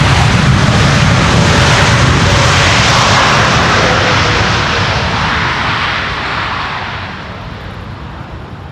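An airliner landing at Amsterdam Schiphol on a crosswind approach to the Polderbaan runway deploys its thrust reversers. A loud, close jet roar swells into a rumbling blast, then slowly fades over several seconds.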